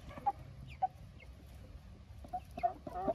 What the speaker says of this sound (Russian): Петухи прорываются